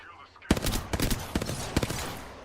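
Rapid gunfire in the battle royale shooter Apex Legends, with a burst of closely spaced shots starting abruptly and continuing in uneven bursts, loud and near, with a voice faintly underneath.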